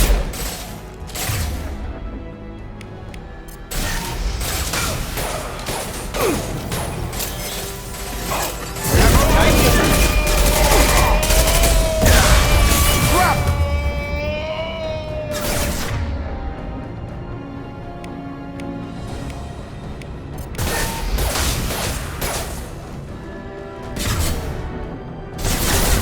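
An impact gun fires in the Mass Effect 2 video game: loud, dense bursts of blasts and crashes mixed with whooshes and a swelling tone, with voices talking over the battle throughout.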